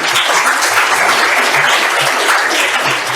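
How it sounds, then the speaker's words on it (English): An audience claps steadily and loudly at the close of a medical talk, a dense, even wash of many hands filling the room without pause. "a round of applause"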